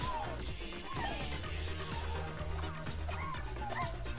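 A cartoonish dog barks repeatedly in the video game Astro's Playroom on PS5, over bouncy game music with a rhythmic bass line and occasional whimpering yips.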